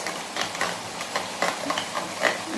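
Spices being mixed into chicken korma in a pan, soft irregular scraping and shuffling strokes with a light sizzle beneath, moderately close, no speech.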